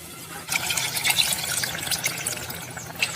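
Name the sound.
pouring water into mutton curry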